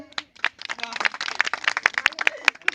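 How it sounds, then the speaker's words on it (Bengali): Audience applause at a Saraswati Puja prize giving after a biscuit race: scattered, sharp hand claps that grow busier and denser over a few seconds, mixed with people talking nearby. "মনোজ মন্ডলের জন্য চাইবো জোরদার হাততালি"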